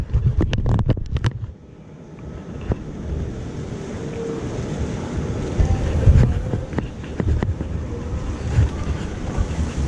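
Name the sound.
wind blowing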